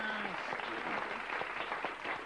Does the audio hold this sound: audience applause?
yes